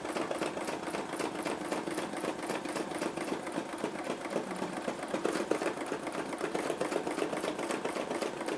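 A sewing machine stitches a quilt at a fast pace, its needle chattering in a rapid, even mechanical rhythm close by for the whole stretch.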